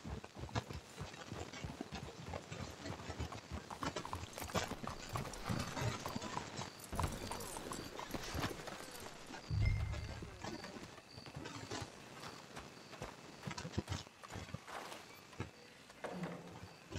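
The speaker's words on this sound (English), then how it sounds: "Let's hitch your horses up ahead." Horses clip-clopping in Red Dead Redemption 2, a continuous run of hoof clops on the ground under intermittent talking voices, with a louder thud partway through.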